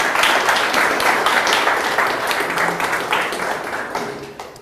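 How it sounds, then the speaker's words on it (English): An audience at a data science talk applauds a speaker, a dense, even patter of many hands clapping that holds steady and then gradually fades away. "Round of applause for Jeff."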